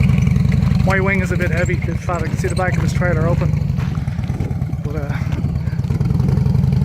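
A Harley motorcycle towing a trailer runs with a steady, deep, throbbing engine rumble that stays loud and close throughout, while someone talks over it.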